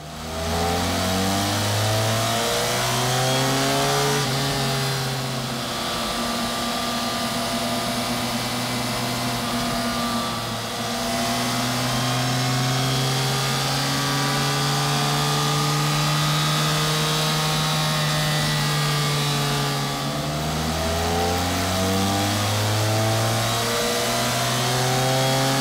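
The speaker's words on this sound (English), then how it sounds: "So we're going to run it up on the dyno, do a full set of data logging on it" A BMW F800R parallel-twin motorcycle runs on a dyno during ECU remapping, its engine revving up through repeated sweeping pulls and dropping back, loud and close for the whole stretch with no voices.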